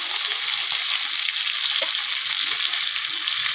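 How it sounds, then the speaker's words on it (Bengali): Ground spice pastes of onion, chili, green chili, cumin and ginger-garlic hit hot oil left from frying pangas fish, giving a loud, steady, close sizzle with no break. "এখন এই তেলের মধ্যে আমি বাটা মশলাগুলো দিয়ে দিব"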